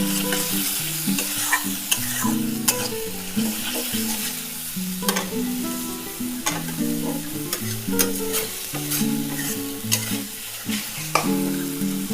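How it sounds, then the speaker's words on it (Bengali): Crab curry masala fries in oil while a spoon stirs it steadily, making a constant sizzle with frequent rhythmic metallic scrapes and clinks against the pan, near and clear, with no talking. "মশলাটা ভাজতে ভাজতে যখন মশলাটা থেকে তেল ছেড়ে আসবে"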